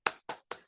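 Three sharp, evenly spaced claps in a classroom clapping game led by a teacher, each a crisp slap of hands with a short decay, close and clear with no talk over them.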